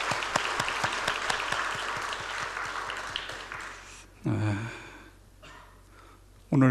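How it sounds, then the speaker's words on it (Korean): A church congregation claps for newlyweds at a Sunday service: distinct, fairly distant hand claps that thin out and fade, followed by breathy sounds close to the microphone. "우리 박수로"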